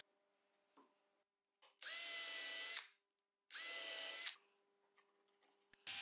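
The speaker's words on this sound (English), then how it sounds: "I'll drill a couple of holes" A power drill boring holes into plywood in a workshop: two distinct high-pitched bursts of about a second each, separated by a short pause, with quiet background between them.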